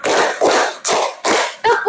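A class of children claps hands together in a counting game, five loud group claps landing at a steady, slightly uneven beat.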